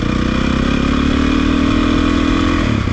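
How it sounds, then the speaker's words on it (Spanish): A motorcycle engine in first gear revs steadily at high RPM, a loud, continuous, close-up buzzing drone that holds for a few seconds and then eases off. "estando en primera, escuchen las revoluciones"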